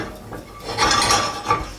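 Pine nuts toasting in a pan for Mediterranean rice, giving soft clinking and rattling as the nuts shift and tap against the metal in a short, close, intermittent burst.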